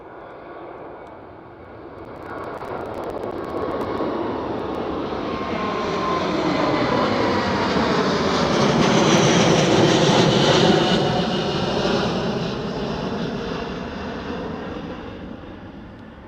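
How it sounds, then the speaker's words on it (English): An Airbus A330neo airliner at Schiphol airport passes with a steady engine roar that swells gradually to a peak and then eases off, a broad sustained whoosh heard from moderate distance with no talk. "These A330 Neos are so much more quiet."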